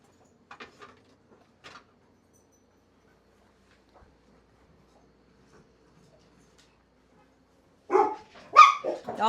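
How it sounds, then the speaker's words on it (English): Dogs bark near a kitchen, a couple of faint distant barks early on, then a louder burst of several sharp barks at the end, with quiet stretches between. "Don't mind the dogs barking"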